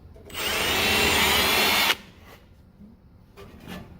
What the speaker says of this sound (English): I take a really large drill bit to counterbore